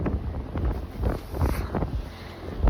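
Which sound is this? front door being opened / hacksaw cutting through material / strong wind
strong wind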